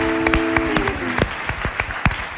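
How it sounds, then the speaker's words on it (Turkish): Studio audience applauding on a Turkish television show, a short burst of sharp, scattered claps close by and fairly loud. "Alkışlıyoruz Kadir İnanır'ı ve reklamı"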